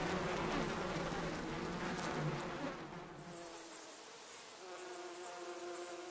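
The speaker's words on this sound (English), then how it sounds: "Honeybees are busily coming in and out" Honeybees fly in and out of a hollow in a forest tree trunk, producing a steady insect buzz that holds constant, then becomes thinner and quieter partway through.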